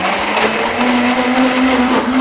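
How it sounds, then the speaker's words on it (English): A blender whirs through cocoyam soup thickener, a loud, steady high-pitched motor whine with a droning tone, running continuously from start to finish. "So I'll blend now."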